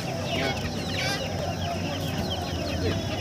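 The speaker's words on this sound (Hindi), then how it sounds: "ये मुर्गी है देसी मुर्गी है" Desi chickens cluck and chatter continuously at an Omani goat market, several birds close together, with a busy background of farmyard noise.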